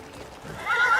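A horse in the fantasy video game Crimson Desert gives a short, fairly quiet neigh that rises into a clear whinny at the end, with faint hoof clops beneath.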